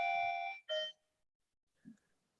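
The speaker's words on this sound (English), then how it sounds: "All right, Pete, just talk over the bells." Electronic bells ringing indoors, two sustained bright tones with a short gap, then a faint brief chime and a low knock after a pause, fairly quiet overall.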